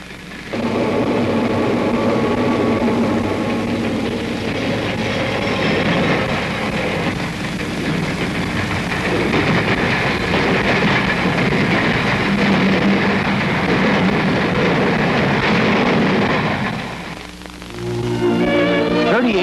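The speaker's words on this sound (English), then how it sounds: "After a short stop at Albert Lee, our train is on the way once again." A 1949 Minneapolis & St. Louis Railway freight train rolls along the rails, a loud, continuous rumble and rattle that holds steady before easing slightly near the end.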